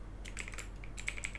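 Computer keyboard keys tapped while writing VBA code in Excel, a quick run of close, light clicks in an uneven rhythm with a couple of sharper strokes near the end.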